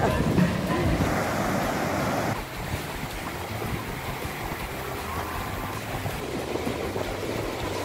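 Ocean surf on the beach at Cerro Azul, a continuous wash of waves, loud and near, with strong wind buffeting the microphone; a heavier crash fades after the first couple of seconds into steady churning water.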